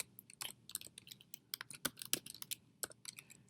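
Rapid keystrokes on a computer keyboard while entering Mathematica code, sharp uneven clicks in quick bursts with short pauses, close and fairly quiet, no talking.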